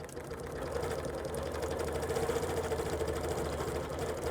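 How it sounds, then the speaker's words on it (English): A sewing machine quilting a quilt border runs at a steady, fast stitching rhythm with a constant motor hum, moderately close and alone. "I'm going to start off the edge and quilt in."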